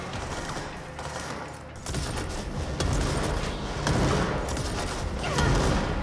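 Enemy gunfire in the video game Control, a steady rattle of shots with crashes and debris that slowly builds in loudness over a busy combat scene.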